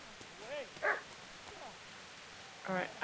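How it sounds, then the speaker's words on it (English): A dog in the medieval game Kingdom Come Deliverance gives two sharp barks a couple of seconds apart over a soft rain-like hiss, with a few faint whimpery yelps between. "I'm hearing a dog barking."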